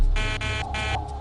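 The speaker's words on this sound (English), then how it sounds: "Can we get the stall warning to sound?" An aircraft stall warning sounds as a harsh electronic buzzing alarm, repeating in three pulses over a steady low rumble in the cockpit, loud and close.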